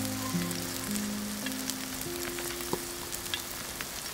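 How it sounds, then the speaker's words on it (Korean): Chopped green onion fries in hot oil in a pan, a steady, close, even sizzle that holds throughout with a faint crackle and a few soft pops. "팬에 기름을 두르고 다진 파로 향을 내다가"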